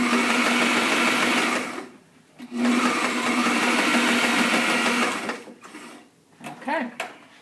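A sewing machine stitches over the piping of a box cushion in loud, steady runs, pausing briefly once and stopping near the end, with a person talking over and between the bursts.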